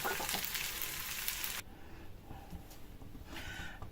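Potato pancakes sizzle and crackle in a hot granite frying pan, a steady frying hiss that drops partway through and then continues more softly.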